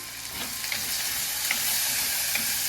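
Sizzling and stirring in a clay pot while sautéing for a spicy Sri Lankan prawn curry: steady crackling fry noise at moderate level, with occasional soft scrape accents from a spoon, no voices.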